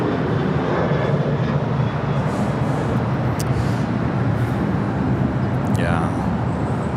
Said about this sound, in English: I can kind of see a plane out there, at least for a second